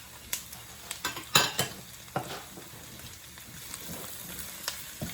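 Red and green bell peppers with onion stir-fry over high heat, a soft continuous sizzle broken by a series of sharp clacks and scrapes from a utensil against the pan.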